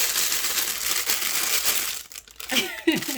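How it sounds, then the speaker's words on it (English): Loud crinkling and crackling of paper handled while shrink wrapping soaps, continuous and close, then fading as a voice starts talking over the end. "This paper makes a lot of noise."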